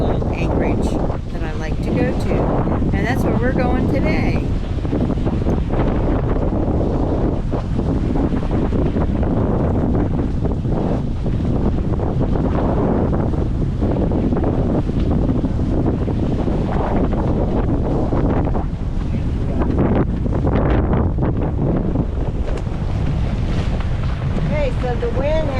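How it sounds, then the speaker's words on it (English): Strong wind buffets a sailboat under way off the Maine coast, a constant loud roar of gusts and microphone wind noise with hull and water wash beneath, sustained and unbroken throughout. "So the wind has picked up, gotten a little crazy"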